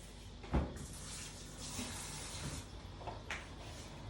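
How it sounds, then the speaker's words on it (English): A kitchen tap runs water to rinse out a blender jar while making a raw white chocolate cheesecake, a faint steady splashing hiss with a knock near the start and a few brief surges. "Just got to give it a good rinse out and make sure that you don't have any of those little pieces of husk from the nut."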